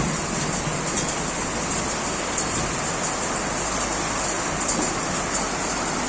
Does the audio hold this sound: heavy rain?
yes